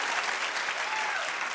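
A studio audience claps during a talk show, a dense, even burst of applause sustained throughout, with faint voices underneath.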